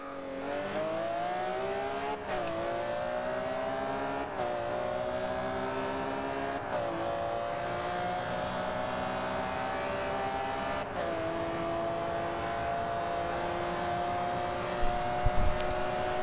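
Racing in Forza Horizon 2 with a Lamborghini Huracán drag build: a loud, sustained engine drone climbs in pitch and drops sharply at each gear shift, repeating through several upshifts with no talk.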